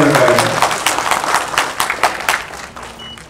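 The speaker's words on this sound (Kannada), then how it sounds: "ಸೊ ಇದಕ್ಕೆ ಜೋರಾದ ಚಪ್ಪಾಳೆ ನಾವೆಲ್ಲರೂ ಕೊಡಬೇಕಾಗುತ್ತೆ." Audience applause at a Kannada film song launch event, a short burst of crowd clapping that fades out quickly, with a voice speaking briefly at the start.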